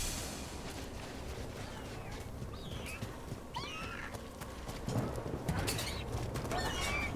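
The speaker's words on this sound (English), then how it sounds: "I can hear the other griffins." Griffins in the game Dragon Age: The Veilguard let out several high, swooping squawks and cries over a steady ambient bed of wind and game noise.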